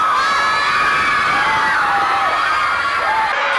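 A crowd of fans screams and cheers at an airport arrival for a singer, a loud, continuous wall of high-pitched shrieks and whoops throughout.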